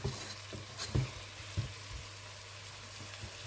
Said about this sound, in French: Et encore, on laisse un peu mijoter.